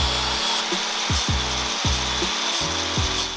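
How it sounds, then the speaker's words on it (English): Burrs being ground off the cut edges of a steel exhaust pipe for a Mitsubishi Delica 2.8TD L400, with loud, close, rhythmic rasping strokes that repeat roughly every half second. "take the burrs off the edges of the pipe"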